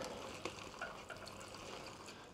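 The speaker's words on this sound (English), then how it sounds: "So I'll water these. I put some liquid fertilizer in the water as well." Water mixed with liquid fertilizer poured onto garden plants in autumn, a soft continuous splashing trickle, faint and steady throughout with no talking.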